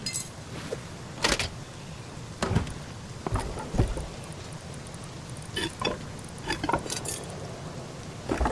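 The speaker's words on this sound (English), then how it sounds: "Oh, it's raining in the desert." Rain falling over a desert in the survival game Rust, a steady soft patter with scattered sharper drip and tap transients, fairly quiet and without talk.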